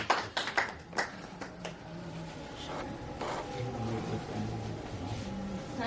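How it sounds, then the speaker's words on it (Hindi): A short burst of hand clapping from a small audience at a poetry gathering in India opens, fading into a quiet murmur of room noise and faint movement. "भाई तालियां तो बजा दीजिए।"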